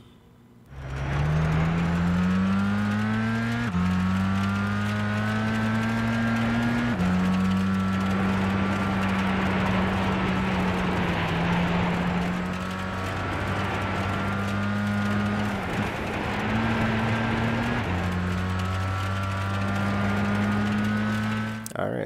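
A race car in Gran Turismo 6 on a Chamonix snow track, its engine droning loudly and steadily, pitch climbing through gears with repeated shifts and dips, heard close and continuous throughout.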